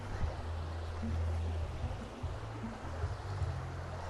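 Water spills over from a stream behind a house in Nakhon Nayok, a steady soft rushing and gurgling wash with a low rumble underneath, moderately loud and continuous.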